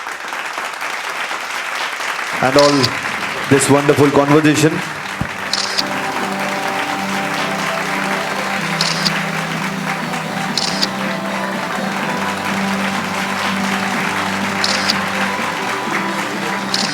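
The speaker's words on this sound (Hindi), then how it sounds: "एक बार सर के लिए जोरदार तालियां हो जाएं फिर से." Audience applause at a film festival talk show swells into loud, sustained clapping. A speaker talks over it briefly near the start, and music plays underneath.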